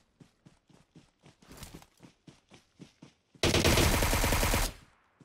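Gunfire in the mobile game PUBG Mobile on the Sanhok map: a run of evenly spaced single shots, then a loud, sustained burst of rapid automatic fire lasting over a second, close and with no talking.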